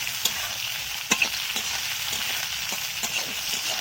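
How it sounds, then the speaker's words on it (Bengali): Sliced green chillies crackle and sizzle in hot oil in a pan while being stirred, a steady frying hiss with scattered clicks and light utensil scrapes close by. "দিয়ে এবারে ভালো করে নাড়াচাড়া করে দেবো।"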